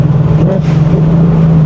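Straight-piped Ford Mustang exhaust droning steadily while driving, a loud, close, low rumble from inside the car with little change over a brief stretch.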